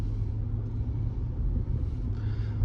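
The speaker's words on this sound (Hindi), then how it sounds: "देखो सामने से जो लाइट आ रही है ना वाइट वाली, वो उसकी गाड़ी है।" A car approaches at night, its engine and tyre rumble a steady, close low drone throughout with no talk.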